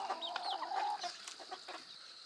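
A backyard flock of chickens, including a rooster, clucks and chatters softly nearby in short, overlapping calls with no one speaking.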